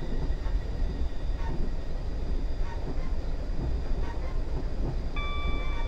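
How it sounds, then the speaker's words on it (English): A Class 700 train rushes past in Train Simulator 2020 on the Gatwick Express route, a steady loud rumble of wheels and rails that holds throughout, with a faint electric whine near the end. "That's a ghost train on the right."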